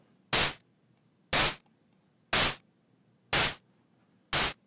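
Logic ES2 synth drum with added drive sounds as five harsh, distorted noise bursts in an even one-per-second pattern, each loud and clipped short with a brief decay.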